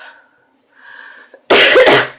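After a brief murmur of a voice, a single loud, harsh cough from lingering post-illness symptoms bursts out close to the microphone.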